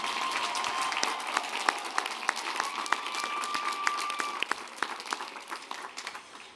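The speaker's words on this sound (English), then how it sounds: "You may now applaud the graduate." A graduate and professional commencement audience applauds a graduate: moderate, fairly distant clapping with individual sharp claps standing out, and a few faint voices mixed in as it gradually thins.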